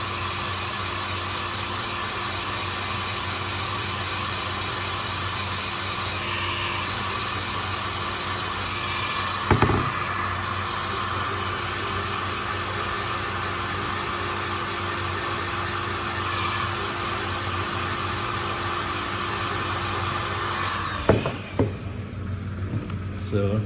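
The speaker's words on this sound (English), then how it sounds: "This is an industrial heat gun." Industrial heat gun running steadily while a shofar is heated and tuned, giving a constant loud blowing whoosh with a few small knocks and handling noises near the end.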